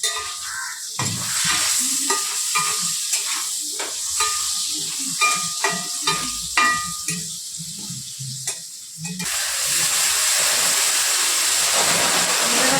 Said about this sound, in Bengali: নুন দিয়ে দিলাম, ভাজা হোক।